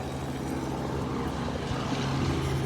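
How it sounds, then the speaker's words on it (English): Helicopter engine and rotor heard from on board during a flight, a loud, continuous droning roar holding steady throughout, with no talk. "let's go on the helicopter"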